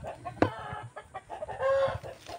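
Chickens at a highland hometown give a few close clucks over a faint rural background, one sharp cluck standing out early.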